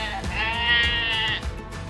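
Sheep on a farm give one loud, wavering bleat close by, lasting about a second, with low rumbling farmyard noise around it.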